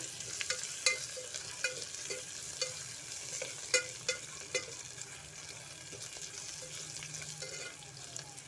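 Garlic and ginger sautéed and stirred in a pan for vegetable biryani, with a steady faint sizzle and irregular soft scrapes and clicks of a spoon against the pan throughout.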